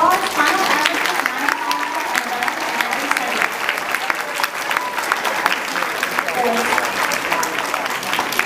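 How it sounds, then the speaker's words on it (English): Audience applauding for two third-grade award-winning students at an end-of-year school assembly, a steady round of clapping lasting several seconds with faint voices underneath. "So let's give these two boys a big round of applause."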